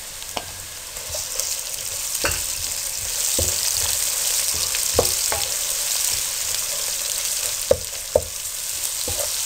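Garlic tipped into browned onions for aloo keema sets off a steady, close sizzle of frying, with scattered sharp clicks and scrapes of stirring throughout.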